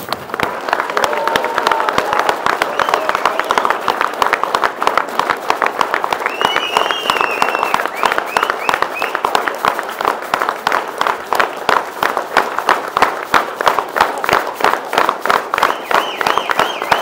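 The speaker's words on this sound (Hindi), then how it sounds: "अब इमरान खान के लिए तालियां बजाएं।" A crowded hall applauds for Imran Khan with loud, sustained clapping, some rhythmic hand claps and scattered cheers and shouts mixed into the din.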